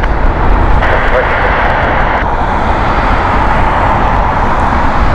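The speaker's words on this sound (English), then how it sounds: "let's see a beautiful Airbus A350 pierce through the fog" An Airbus A350 comes in to land through fog at Heathrow, its engines a loud, steady, close roar that holds without a break throughout.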